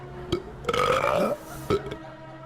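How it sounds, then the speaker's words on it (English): A person lets out a long, loud, croaking burp during a burping contest, the belch rising and falling in pitch close to the microphone, framed by short bursts of noise before and after. "Speed is needed for belches."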